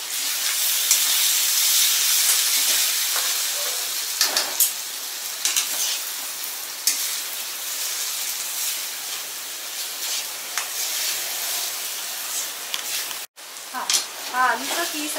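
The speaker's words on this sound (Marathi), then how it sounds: "मिरच्यांमध्ये आपण हा आलूचा किस घालूया। आणि याला चांगलं परतून घेऊया।" Grated potato frying with green chillies for a fasting-day dish, a loud, dense hissing sizzle that holds steady with brief stirring scrapes and dips, close to the pan, with a short cut near the end.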